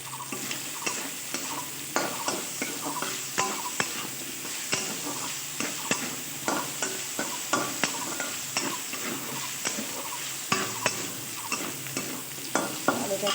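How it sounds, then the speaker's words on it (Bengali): Potato pieces fry with shrimp in a pan under a constant sizzle, while a spatula stirs them in frequent, rhythmic scraping knocks against the metal. "আলুর টুকরোগুলোও একটু নেড়ে চেড়ে নেবো"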